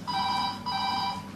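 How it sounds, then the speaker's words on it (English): A telephone rings twice in a steady electronic double pattern, moderately loud and alone, with a brief gap between the two rings. "I'm busy making my video. So I'm not going to answer the phone."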